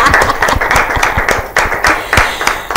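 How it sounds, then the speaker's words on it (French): Close, loud applause from a small audience at an end-of-internship gathering in a studio, a brisk uneven patter of hand claps over nearly three seconds. "on l'acclame"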